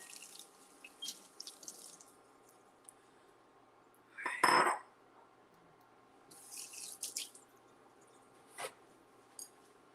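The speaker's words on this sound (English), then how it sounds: "Let me just give these a rinse." Dishes are rinsed under a kitchen tap, with faint trickling and dripping water, a short louder burst of running water in the middle, and scattered light clinks and rustles around it. No one speaks.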